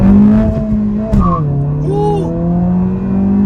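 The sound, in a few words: 2023 Honda Civic Si turbo engine accelerating in first gear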